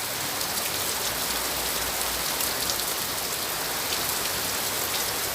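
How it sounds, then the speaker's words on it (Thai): Steady out-of-season rain falls heavily on a December evening in Thailand, a dense continuous hiss of drops hitting surfaces nearby, with no voices. "ฝนตกลงมา อย่างไม่มีสาเหตุนะครับผม"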